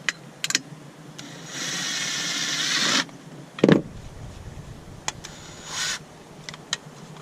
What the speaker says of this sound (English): And now it's getting some holes drilled into it.